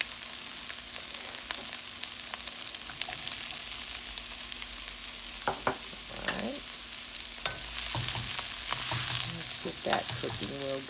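Celery fries in a hot pan for shrimp fried rice with a continuous sizzle, while a utensil stirs it with repeated scraping clatters that get busier toward the end.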